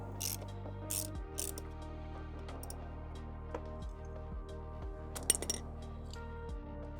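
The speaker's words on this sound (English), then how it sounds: "Take off the right passenger footrest by removing 2 T40 Torx" Two T40 Torx bolts are worked loose from the passenger footrests of a 2024 KTM 1290 Super Adventure R, with light metallic ratchet clicks and clinks set against a steady low hum, with no talk.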